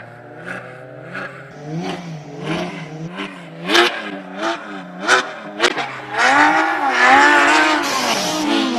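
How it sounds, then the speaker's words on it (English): An all-wheel-drive Audi race car climbs hard up a hill at a classic car speed event in Cape Town, engine revving up and down through repeated gear changes, growing louder as it passes close by. "One of the loudest cars going up the hill thus far this morning. All-wheel drive Audi."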